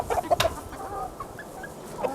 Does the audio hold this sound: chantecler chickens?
yes